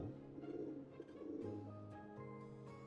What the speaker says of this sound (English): Take pictures of those pigeons.